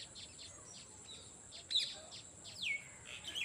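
Sparrows chirp near a small nest under trees behind a house surrounded by farm fields, giving a few faint, thin, high calls scattered over a quiet background.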